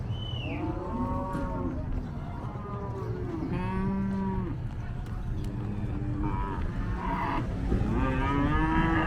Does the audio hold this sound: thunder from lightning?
no